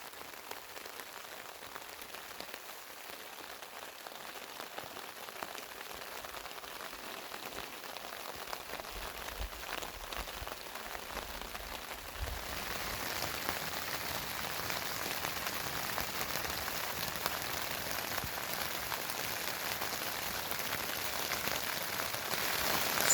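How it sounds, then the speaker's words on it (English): Steady heavy rain hisses on a tent across the whole clip while camping in the Talkeetna Mountains of Alaska, growing denser and louder in the second half, with no voices over it. "Pouring down rain pretty good out there."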